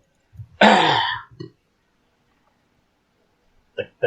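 A single throaty cough or throat-clear, fairly loud and close, followed by a brief quiet and a couple of small vocal sounds at the end.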